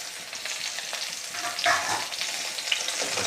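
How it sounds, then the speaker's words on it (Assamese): Taro pieces hit hot mustard oil in a wok, setting off a loud, steady crackling sizzle that swells briefly mid-way with stirring, heard close and without talk. "মোৰ তেল গৰম হৈ গ'ল। এতিয়া মই কচুখিনি দি ল'লোঁ।"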